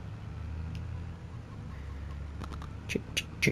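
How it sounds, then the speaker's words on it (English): Chickens clucking in a farming game on PS5, several short clucks near the end over a steady low engine hum from farm machinery, no talk. "Come on, chickens."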